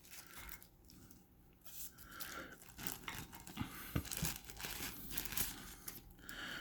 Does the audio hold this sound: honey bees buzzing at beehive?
no